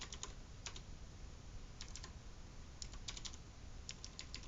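Quick bursts of typing on a computer keyboard while coding an Android project, light clicking keystrokes in short clusters over a steady hum, with no talking.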